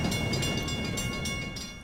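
Train rumble from the Michigan: Report from Hell video game, with a steady low roar of rolling cars and faint rhythmic clacking, close and continuous.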